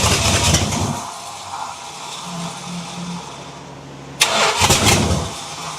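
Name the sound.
Mopar engine in Datsun truck cranking, trying to start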